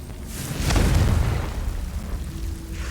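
A Confringo fire-blast spell from Hogwarts Legacy erupts in one deep, swelling boom that peaks quickly and rumbles away over a couple of seconds, fairly loud with no talk over it.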